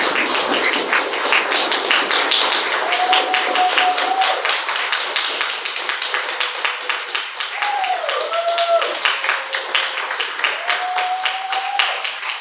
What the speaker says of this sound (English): Round of applause for Justin, who wrote the story.